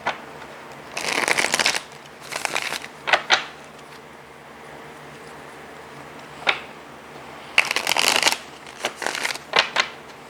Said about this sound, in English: I'm going to pull some more cards to clarify these 3 here from my Hoodoo Tarot deck